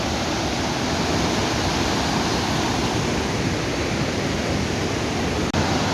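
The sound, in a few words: Iguaçu waterfalls in Brazil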